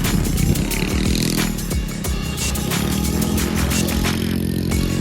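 A motorcycle rumbles close by in a crowded seaside outing near Mandvi, its engine loud and continuous with clattering and crowd noise mixed in.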